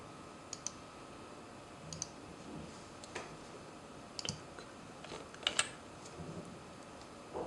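An email address being typed on a computer keyboard, sparse soft key clicks and taps scattered over a faint room hiss, close and quiet, no speech.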